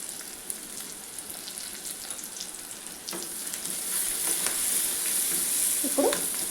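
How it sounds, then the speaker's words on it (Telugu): Onions fry in a pan for a bottle gourd curry, a close, steady hissing sizzle that swells louder midway, with light stirring scrapes near the end. "ఇప్పుడు ఆనియన్స్ వేగాలండి."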